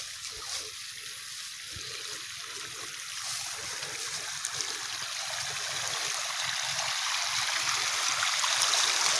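River water pumped by a diesel pump flows out in a continuous rushing, splashing stream, close and steady, growing slightly louder over the span with a faint engine drone beneath.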